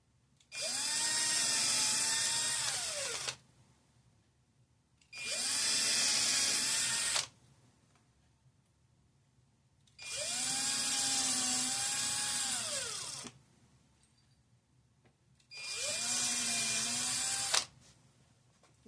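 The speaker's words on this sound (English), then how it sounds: "So let's quickly drill the holes." A power drill whirs in four separate bursts of about two to three seconds each, pitch dipping under load as it bores pilot holes in wood, with quiet pauses between.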